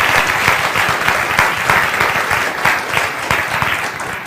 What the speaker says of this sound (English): giving Valerie Castleton and Hubert Lacroix one more round of applause